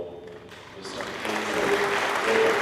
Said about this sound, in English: let me ask the congregation to make a very big clap for